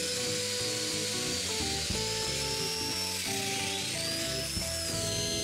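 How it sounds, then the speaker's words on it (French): Domino joiner cutting mortises in plywood, a continuous high motorized whine with shifting tones and grinding texture, loud and steady throughout with no pause. "je marque pour des mortaises de domino et je les perce"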